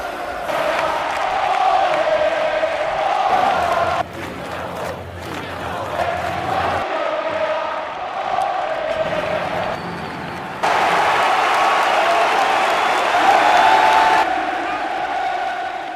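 Football supporters, including West Ham fans, roar and chant in a packed stadium, a loud, sustained crowd din that swells and drops in sections.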